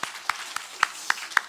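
A few widely spaced claps ring out in a church service, six sharp separate hand claps at an even, slow rhythm against a quiet background.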